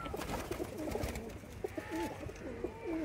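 Pigeons in a Lahore flock coo repeatedly at close range, soft throaty rolling calls overlapping in a steady rhythm with no voices.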